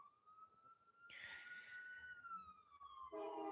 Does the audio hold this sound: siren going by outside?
yes